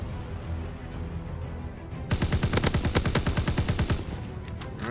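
Rapid automatic gunfire in Call of Duty WW2 rattles out as a dense burst of about two seconds, loud and close, after quieter game ambience.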